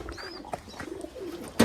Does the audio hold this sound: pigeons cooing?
yes